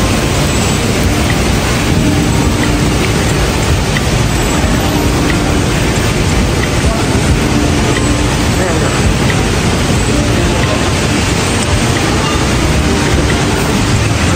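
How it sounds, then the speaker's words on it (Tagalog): Heavy rain pours down on Orchard Road, Singapore, in the morning in a steady, loud, unbroken hiss that fills the whole stretch without pause. "Lakas ng ulan guys."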